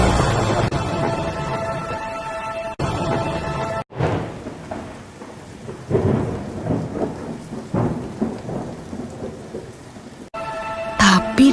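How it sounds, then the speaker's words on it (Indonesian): Heavy rain in a thunderstorm, a constant dense hiss of downpour broken by deep rolling thunder peals, loud and close, with a music-like tonal layer at the start and end. "Hujan turun sangat deras, sampai air menutupi ladang-ladang."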